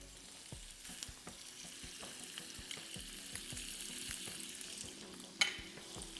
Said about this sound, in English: Now, as lobster is frying, I'll add a few curry leaves.